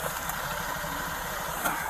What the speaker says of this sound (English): Exhaust is rattling.